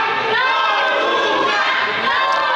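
A dense crowd at a wrestling event in Toluca, Mexico, shouts and chants together, loud and sustained, filling the arena without a break.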